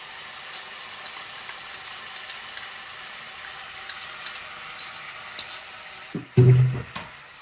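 Boiled paneer frying in a pan with tomato, chili and soy sauce, a soft steady sizzle with faint stirring taps, then a louder burst of hissing as liquid is added near the end.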